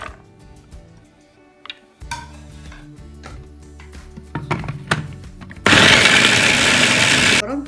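Food processor mincing quartered onion and garlic for falafel in a home kitchen, a loud steady whirring blade burst near the end after quieter kitchen clatter and handling noises.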